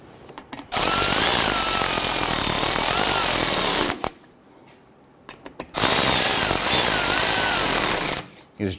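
A power tool drives and snugs down the front lower forward control arm bolts on a 2011-2023 Dodge Charger in two loud, close bursts of about three seconds each, separated by a short quiet pause.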